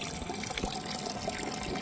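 Water recirculates steadily through dry membranes of a seawater filtration unit during a pre-soak, a constant soft trickling and rushing wash with no pauses or voices.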